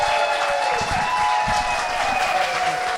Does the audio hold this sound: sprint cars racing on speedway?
no